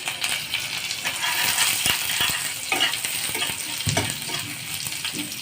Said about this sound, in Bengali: এবার আমি প্রথমে রসুন দিয়ে দেবো, তারপর আমি কাঁচা লঙ্কাটা দিয়ে দেবো